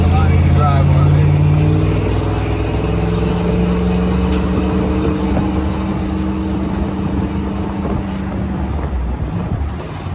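A 1973 Ford Bronco driving, its engine a loud, steady low rumble with shifting pitch and rushing road and wind noise that fades slightly toward the end, heard close from inside the cabin.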